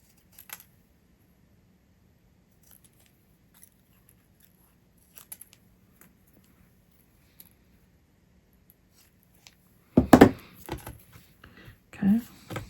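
Excess paper is trimmed off a handmade floral card, a few crisp close cuts and crinkles bunched near the end after a long stretch of near silence broken by faint ticks.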